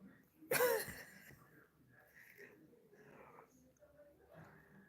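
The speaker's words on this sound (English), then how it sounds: "Is my son really clearing his throat like that in the background?" A child's sharp, loud throat-clearing burst near the start, then quieter low voices and murmuring talk in the background.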